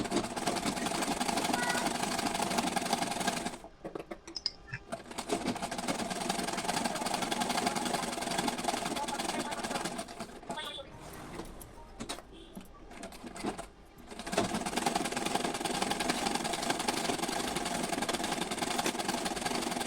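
A sewing machine runs in steady bursts stitching a size 32 Bombay-cut blouse, its rapid mechanical whir filling the room, with a few brief pauses where it stops between stitches.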